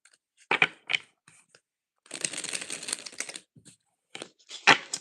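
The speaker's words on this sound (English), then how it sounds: "One more shuffle and we'll get into it." Tarot cards are shuffled by hand at close range: a few crisp riffling bursts, then a longer continuous shuffle, then more short bursts, with quiet gaps between them.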